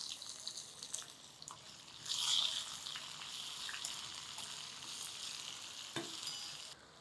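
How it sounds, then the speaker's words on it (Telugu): Chopped onion pieces drop into a hot tempering of oil and asafoetida for an amaranth-leaf tamarind stew, giving a sharp sizzling burst that settles into a quieter, steady crackle of frying with faint stirring. "ఉల్లిపాయ ముక్కలు వేసేద్దాము."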